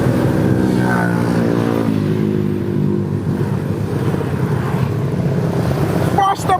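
Motorbikes speeding along a Kuala Lumpur street at 3 a.m., engines rising in pitch as they accelerate past, loud and close, with a sharp clatter at the end.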